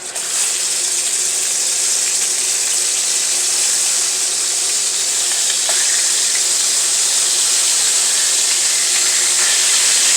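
Turkey wings searing in a hot pan give a loud, steady, continuous sizzle and hiss with no talking.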